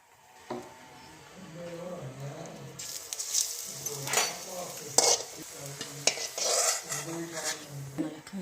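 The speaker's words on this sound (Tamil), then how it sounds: "வரமிளகா, பச்சை மிளகா நல்லா வறுத்துட்டேங்க" Dried red and green chillies fry in hot oil in a pan, a soft sizzle broken by repeated scraping and clinking of a metal spoon against the vessel, close and moderately loud, without speech.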